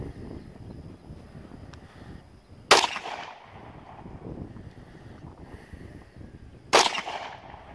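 Kel-Tec PMR-30 pistol fired at about 10 yards outdoors, two sharp loud shots several seconds apart with brief ringing decay over light wind noise.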